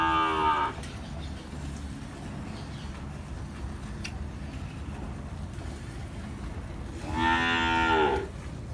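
Cows in a corral moo twice, one long low call at the start and another near the end, close by over a quiet outdoor background.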